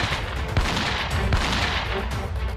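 Gunfire during a militant encounter in Jammu and Kashmir, with army, police and CRPF forces engaged: a dense, noisy barrage with a few distinct heavier cracks standing out, steady and loud throughout.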